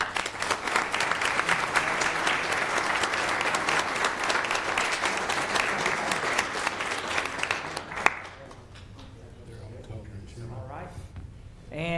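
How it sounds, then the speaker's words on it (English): Sustained applause from a city council meeting audience honoring a high school team, loud dense clapping for about eight seconds that stops abruptly, followed by a speaker's voice addressing the room. "I want to bring them in and give them a round of applause"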